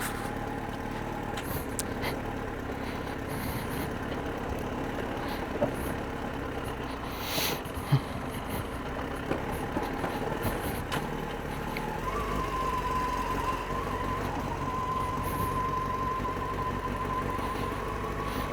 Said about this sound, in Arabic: دابا هابط فران موتور غندير دوزيام